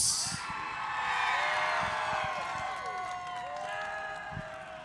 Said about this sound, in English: How about a round of applause for Sarah Fisher Hartman Racing Development, his first podium, Elliot Cox.